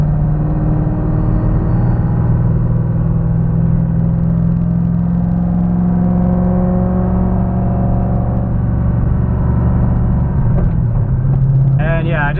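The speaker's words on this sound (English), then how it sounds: "This one, it just has a low, deep rumble to it." A Shelby GT500 with the 5.4 engine drones with a low, deep rumble, heard steadily and loud from inside the cabin, with a slight shift in pitch near the end and a voice faint underneath.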